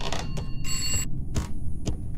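Telephone ringing inside a video game, a bright repeating electronic bell tone in short bursts over low background rumble, fairly faint and without talk.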